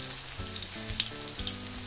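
Masoor dal and small prawn fritters fry in hot oil with a steady, close sizzle and faint bubbling crackle throughout.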